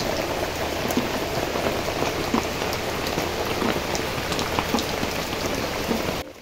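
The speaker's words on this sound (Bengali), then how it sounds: "এই যে দেখো বৃষ্টি কিন্তু হয়েই যাচ্ছে, এত পরিমাণে বৃষ্টি হচ্ছে" Heavy rain pouring down steadily, a dense continuous patter and splash of drops on surfaces close by, with no voices over it.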